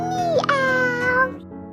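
A cat gives a few drawn-out, rising-and-falling meows, close and fairly loud, ending in a softer trailing note.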